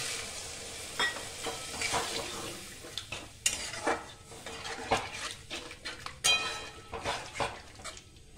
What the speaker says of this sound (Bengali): হালকা নুন দেব, নাড়াচাড়া করে নিলাম। এবারে একটু জল দিয়ে দেবো বেশি করে।